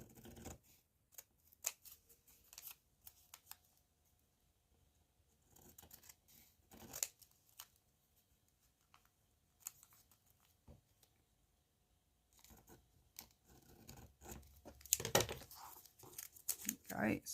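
Scissors snipping brown paper for a handmade craft card, a few scattered crisp cuts and rustles with quiet pauses between, close by, with a burst of heavier paper handling near the end.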